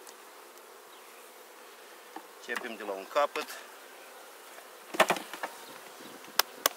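Honey bees buzz softly and continuously around an open beehive after a cold spell, a faint steady hum under a man's brief speech and a few sharp knocks from handling the hive.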